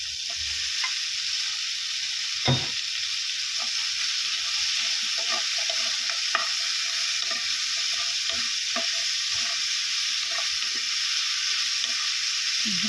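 Squash hits a hot pan and is sautéed, a loud steady sizzle and hiss up close, broken by repeated scraping stirs of a utensil, with no voices.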